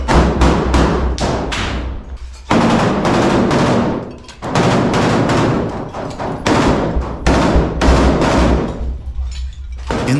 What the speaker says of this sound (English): Inside, a fierce firefight breaks out, with grenades also being used.